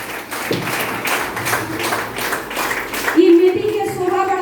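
Clapping from people seated at a community meeting, a loose patter of hands over the first three seconds, then a voice takes over while scattered claps fade beneath it.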